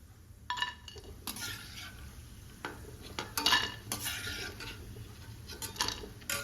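Fried puffed rice chevda ingredients are lifted from hot oil onto a plate, with scattered metal clinks and scraping of a utensil against the pan over a faint, steady sizzle.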